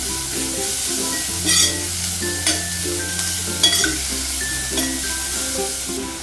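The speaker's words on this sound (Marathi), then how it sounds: "लसूण हे झाली भाजली की आपण हे मग कांदा टाकून घ्यायचा आणि चांगली परतवून घ्यायची" Onion and garlic sauté in hot oil in a pan, producing a continuous moderate sizzle with stirring scrapes and a few sharper clinks of the utensil, close and without speech.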